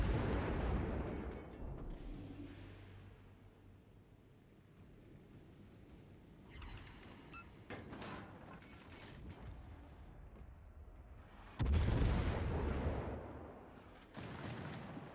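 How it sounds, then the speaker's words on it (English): In World of Warships: Legends, a battleship fires HE shells with deep booming salvos and rumbling blasts, sharp heavy impacts standing out above mechanical clanks and an ambient naval soundscape. "Was that the battleship that just shot HE?"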